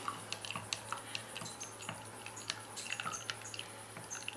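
Stirring citric acid solution into a mixture of tannic acid and KOH to make bioplastic, a quiet series of light, irregular clicks and taps of a utensil against a container over a steady low hum.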